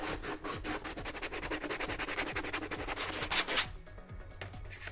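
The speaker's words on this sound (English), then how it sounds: "That's where your sanding stick really is going to come in handy." Rapid back-and-forth scraping of a sanding stick along the ridged edge of a thin urethane Sabine Wren helmet, close and steady, ending in a brief lighter rub.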